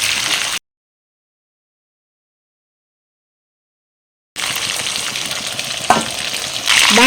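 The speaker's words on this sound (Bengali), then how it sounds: "এরকম হাই ফ্লেমেই কিন্তু ভেজে নেব।" Chicken pieces fry in hot oil over a high flame with a steady, loud sizzle, cut by several seconds of complete silence before the sizzling resumes with some stirring clatter.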